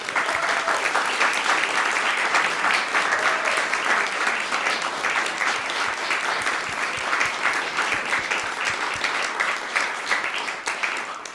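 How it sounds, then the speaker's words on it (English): Sustained audience applause fills a hall at an evening salon performance, a dense, steady wash of clapping that holds at an even level for over ten seconds. "Let's give them all a big round of applause."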